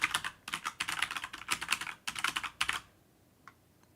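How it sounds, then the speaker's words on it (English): Fast, clattering keystrokes on a computer keyboard come in dense bursts for nearly three seconds, loud and close, then stop abruptly, leaving a couple of faint isolated clicks. "And I'm going to type, see how loud that is."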